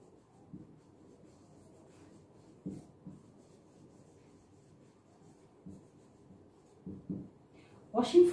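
Chalk or marker taps and scratches on a board during a physics lesson on optics, a few brief, soft strokes spaced apart, with a louder burst at the end and some talking.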